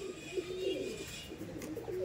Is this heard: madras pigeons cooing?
yes